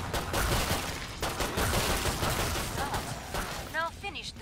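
Rapid bursts of gunfire in the zombie shooter Killing Floor 2, dense overlapping shots and automatic fire with heavy impacts, loud and continuous, ending with metallic weapon-handling clicks and a ringing tone.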